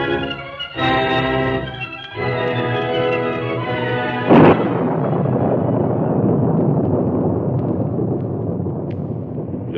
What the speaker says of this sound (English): Rain fell in torrents, and the wind howled across a desolate countryside.